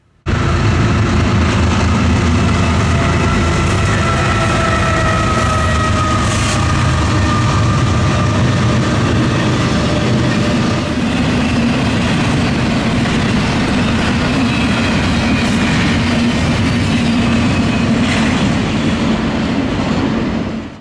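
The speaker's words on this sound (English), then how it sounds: "29P, the daily intermodal out of Buffalo, showed up before we could with a duo of bean sniffers" A Norfolk Southern intermodal freight train pulled by two locomotives rumbles past continuously and loudly, with a steady heavy roar of wheels and cars and faint tonal squeals running throughout.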